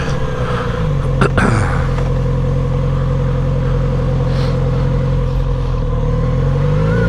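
A Kawasaki Z900RS ridden on a night road, a loud steady engine drone with wind rush heard from the rider's seat and a brief rise in revs early on.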